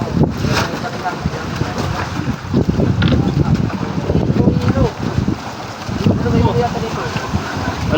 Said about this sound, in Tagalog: Malakas na ang hangin saka napasok na yung gulong dito.